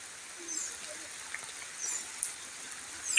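Monsoon rain falls steadily in the Konkan countryside, a soft, continuous hiss of drops with small splashes and no clear voices.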